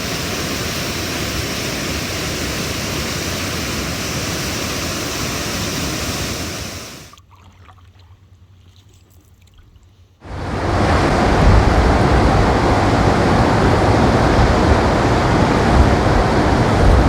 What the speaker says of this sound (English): Chaudières Falls.